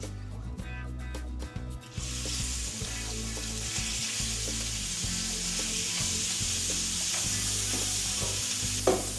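Beef sears in a hot pan of olive oil, a steady bright sizzle that swells after a few seconds of clattering, joined by rhythmic low scraping and stirring knocks throughout.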